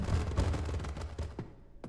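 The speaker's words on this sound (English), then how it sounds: "I heard a gunshot." Burst of gunfire inside the horror game The Dreadthorn Therapist, a rapid volley of sharp reports over a low rumble, followed by a few scattered single shots and one last crack near the end.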